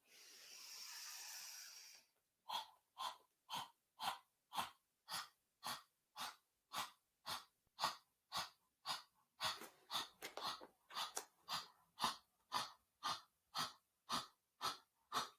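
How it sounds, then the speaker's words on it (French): A long exhale followed by rapid, rhythmic dog-like panting breaths during yoga practice, about twenty quick puffs in an even tempo, close and alone. "Et nous ferons une sorte de respiration du chien haletant comme ceci."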